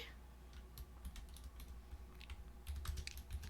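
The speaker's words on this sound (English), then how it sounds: "Typing with one hand because I'm holding a book in the other." Close, steady clatter of a computer keyboard typed one-handed, keystrokes coming in uneven bursts over a low room hum, growing a little busier toward the end.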